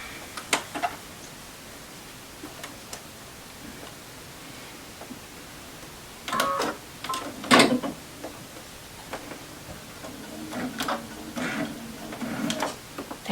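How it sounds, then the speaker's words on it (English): A sewing machine stitches a zippered pillow cover in short bursts, whirring and clattering nearby, with quiet pauses and small mechanical clicks between stitches. "let me head over to the sewing machine"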